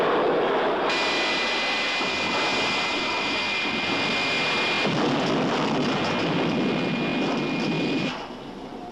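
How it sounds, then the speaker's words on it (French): A jet airliner landing with its engines roaring at maximum reverse thrust, a loud steady broadband rush with a high whine that holds for several seconds and then drops away. "Essayons d'atterrir. Mets toute la gomme. Nous sommes trop courts. Maximum reverse."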